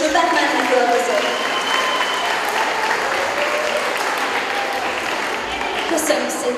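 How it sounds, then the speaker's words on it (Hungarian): An audience at a school carnival (farsang) applauds a child dressed as Batman, with steady, sustained clapping from a crowd that fills the whole stretch at an even level and fades slightly toward the end. "Jó, tapsoljuk meg őt is, ő Batmannek öltözött."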